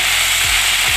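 Curry leaves and spices sizzle loudly in hot oil as mustard seeds pop and dried red chillies go in for a masala curry, a steady bright crackle with a couple of low thuds from ingredients dropping into the pan.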